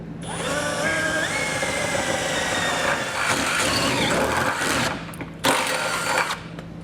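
A power drill whines loudly and continuously, its pitch rising as it bites through the metal of a 2014 Lincoln MKX frame for a trailer hitch, briefly dropping off and then spinning up again near the end.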